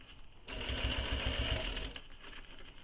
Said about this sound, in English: Just sewing all the way around